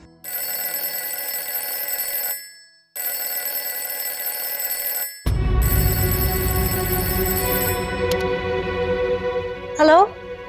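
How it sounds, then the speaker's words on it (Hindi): A telephone rings with a steady electronic trill in two long bursts separated by a short pause. Then a louder room scene takes over with a brief rising tone near the end. "हाँ, फोन बज रहा है।"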